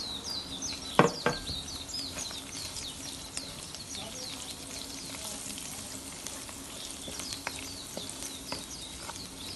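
Spices and tomato sizzle gently in a frying pan for chana dal, a soft, steady crackle with a sharp clank of a utensil against the pan early on and faint scraping stirs.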